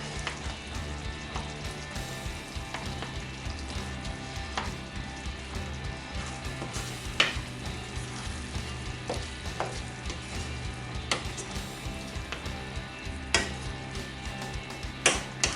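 Tomato paste being stirred into a simmering tomato sauce for shakshuka, a soft continuous sizzle with occasional sharp clicks and scrapes of a utensil against the pan, close and fairly quiet.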